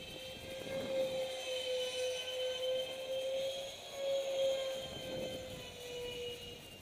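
A twin 70mm EDF radio-controlled jet flying at half throttle near trees, giving a steady droning whine that swells and fades gently as it circles at a distance, with no voices.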